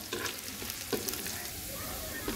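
Onion and garlic fry in a generous amount of oil for a khichuri tempering, with a soft continuous sizzle and occasional stirring scrapes, no talk.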